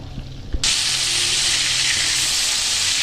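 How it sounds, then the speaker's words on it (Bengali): Oil suddenly erupts into a loud, steady sizzle as bata fish hits the hot pan, hissing continuously up close after a brief quiet moment. "ভেজে তুলে নেব বা ভাজা হোক এক পিঠটা"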